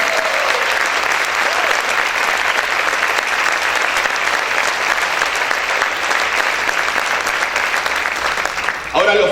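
A church congregation applauds loudly and steadily for about nine seconds, a dense continuous wash of clapping that fades slightly at the very end.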